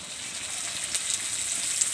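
Mustard oil sizzles in a pan of chicken curry masala with potatoes, a steady close hiss with faint crackles throughout and no voices.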